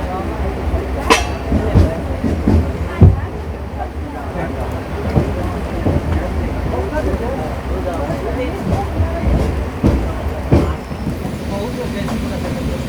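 The 12134 Mangaluru Mumbai Superfast Express running at night between Ratnagiri and Panvel, a loud steady rumble with rattling and occasional knocks, heard from inside the coach, with voices in the background.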